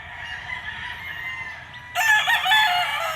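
A White Kelso straight-comb gamefowl rooster crows once, loud and close, after a second and a half of farmyard background and another bird calling.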